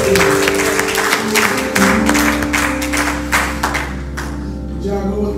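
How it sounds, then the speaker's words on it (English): A church congregation claps in praise, a steady, fairly loud wash of handclaps mixed with sustained organ or keyboard tones underneath, tapering slightly toward the end. "give God a hand, clap of praise for what you need."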